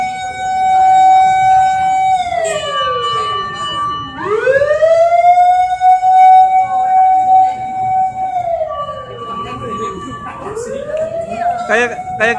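A fire engine siren at Museum Angkut in Batu, East Java, wails loud and close, sweeping up and down in long repeated rises and falls, with voices faintly underneath.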